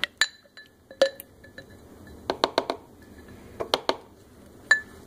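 Leftover kefir is scraped from a glass jar into a blender, making sparse clinks and taps of utensil on glass, with brief clusters of quick scraping knocks, close and fairly quiet.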